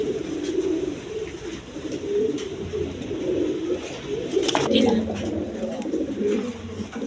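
Rajgola pigeons coo steadily inside a cage, a low continuous rolling murmur close by, with someone talking over them at times.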